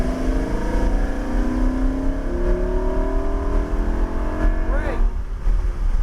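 A car engine climbs steadily in pitch as the driver rolls on the throttle, a smooth rising drone close by that lasts several seconds, with people talking over it.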